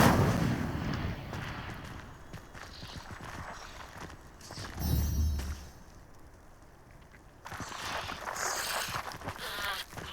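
Incendio fire spell bursts in the video game Hogwarts Legacy, a few sharp whooshing blasts with crackling flame against a busy game soundscape, with quieter stretches between casts.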